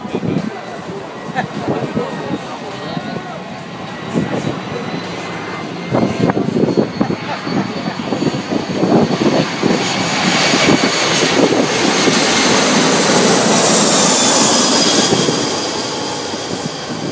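Loud Air France Airbus A340-300 jet engines roaring and swelling as the plane passes close overhead at a beach, rising to a high whining rush, with people talking underneath.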